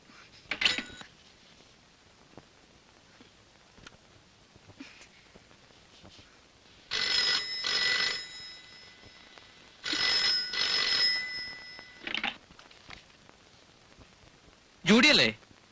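A telephone rings in bursts of electronic trilling, several separate rings spaced across the scene with quieter gaps between them, loud and close in an indoor film setting.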